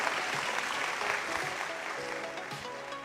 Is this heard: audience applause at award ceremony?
yes